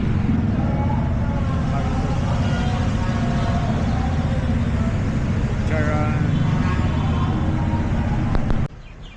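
Steady roar of road traffic in congested conditions, a continuous dense rumble of passing vehicles throughout, ending abruptly near the close.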